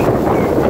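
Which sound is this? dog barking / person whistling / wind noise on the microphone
wind noise on the microphone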